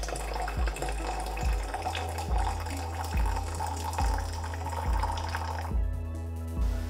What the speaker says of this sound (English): First, I will add 400 milliliters of boiled water